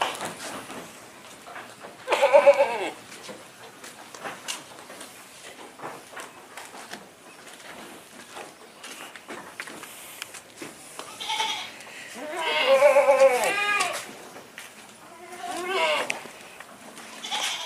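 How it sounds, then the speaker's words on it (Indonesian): Etawa crossbreed buck goats of the Kaligesing line bleat in a farm pen, several loud wavering calls at intervals, with quieter rustling and movement between them. "Kali ini saya mereview kambing peranakan Etawa pejantan di kandang Alung Etawa Farm."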